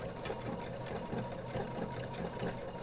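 A normal domestic sewing machine stitches a shoulder bag in one continuous, evenly pulsing mechanical chatter, heard close and steady without talk.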